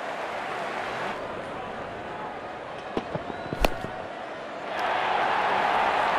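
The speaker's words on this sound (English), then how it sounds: "The crowd loves it." Virtual stadium crowd in Real Cricket 22, an India vs West Indies T20I, roaring after a wicket; a steady broadband roar with a few sharp clicks midway, swelling louder and fuller toward the end.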